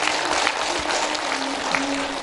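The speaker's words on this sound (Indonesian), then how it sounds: "kita beri aplaus yang meriah" Crowd applause at a ceremonial visit of the Datu Luwu, a steady dense clapping that fills the whole stretch at even strength.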